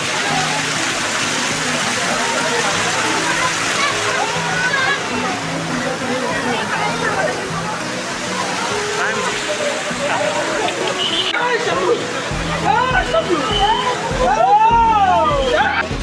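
Water rushes steadily from the stone spouts at Muktinath temple in Nepal, a continuous broadband splash heard close by, with people talking over it throughout.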